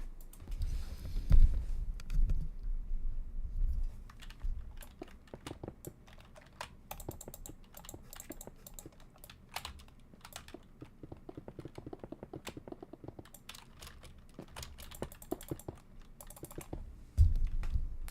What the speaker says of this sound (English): ASMR mouse clicking.